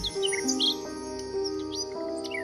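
A mechanical nightingale from a fairy tale sings bright, whistled chirps and trills over a soft sustained musical background, moderately quiet and continuous.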